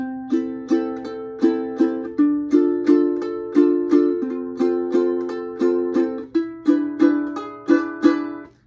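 Ukulele alternates single plucked notes with pairs of quick strums in a steady bouncy pattern, bright and close, no talking.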